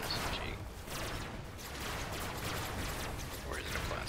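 Rapid SMG fire in a futuristic sci-fi video game, a dense, continuous rattle of shots with battle noise and no pauses across the whole stretch.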